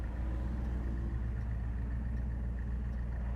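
A 1970 Dodge Challenger T/A with a 340 Six Pack V8 idles steadily, a low even rumble heard up close and fairly quiet, with no voices.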